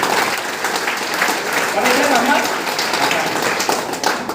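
An audience claps together for an employee at a business gathering, a dense, steady wash of applause filling the room with a voice briefly speaking over it.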